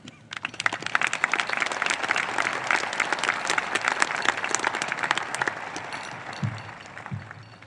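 Audience at a 2022 high school graduation ceremony applauds loudly and steadily for several seconds, a dense wash of many hands clapping, with a few low thumps near the end.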